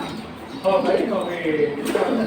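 Pigeons at a pigeon market coo softly and continuously close by, mixed with someone talking over them.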